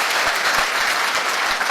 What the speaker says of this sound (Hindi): ताली जोरदार बजा दीजिए